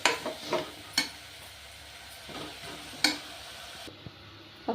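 Coriander powder frying in a pan for drumstick sambar, with a soft steady sizzle broken by a few sharp scrapes and taps of a spoon stirring against the pan.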